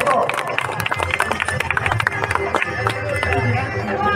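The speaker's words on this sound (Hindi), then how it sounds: "जोरदार तालियां होना चाहिए दोस्तों" An audience at a pharmacy college's 15th August ceremony claps to welcome the anchor on stage: dense, steady applause mixed with crowd murmur and voices, filling the room close to the listener.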